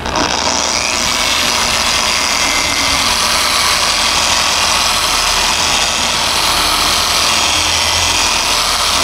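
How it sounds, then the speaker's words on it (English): A dual-action polisher working on the paint of a Golf R runs loud and steady at close range with a constant buzzing whir, without talk. "DA polisher, I've got the pad ready to go, so it says you put it on the paint and you choose a section, you start it on one"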